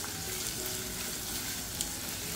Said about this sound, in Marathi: कांदा हलकासा बदामी रंगावर परतून घ्यायचा आहे।